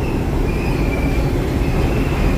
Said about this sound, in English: Sing with me, here's another train again.